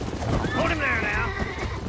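A horse neighs and whinnies in a Red Dead Redemption 2 scene, wavering cries over a dense background of hoofbeats and game ambience, with distant gunfire and a voice faintly mixed in.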